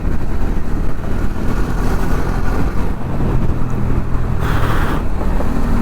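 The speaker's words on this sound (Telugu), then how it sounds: "ఫుల్ ట్రాఫిక్ పెరుగుతూ ఉంది" Busy road traffic heard from inside a moving vehicle, a loud continuous engine and road rumble with a brief brighter swell near the end, no voices.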